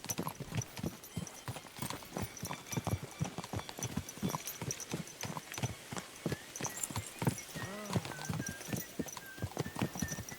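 Horse hooves clip-clop in a steady, fairly quick rhythm while riding in Kingdom Come: Deliverance 2, with a brief whinny and light background game ambience; no talking.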